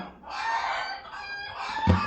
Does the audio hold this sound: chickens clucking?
yes